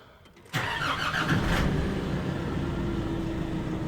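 A Nissan D40 Navara engine cranks briefly and catches, then settles into a steady idle, heard up close with no talking.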